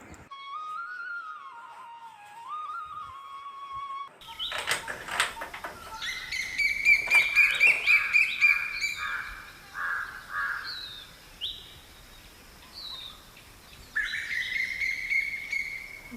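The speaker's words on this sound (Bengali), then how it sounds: "জানালাটা খোলার সাথে সাথে কোকিলের আর কাকের এত সুন্দর ডাক" Bird calls heard outside an open window, including cuckoo and crow, with a bright repeated call rising over faint background noise and harsher caws at moderate distance.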